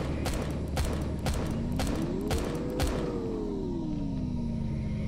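Weapon fire in Empyrion Galactic Survival: a series of sharp, evenly spaced shots over a low droning rumble with a slowly rising and falling engine-like tone.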